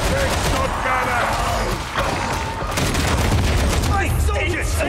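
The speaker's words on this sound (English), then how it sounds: "Break shot on us! Break shot cannon!" Heavy cannon fire and explosions in a Warhammer shooter game, dense continuous booming and crackling blasts lasting throughout, loud and close, with a voice speaking over the din.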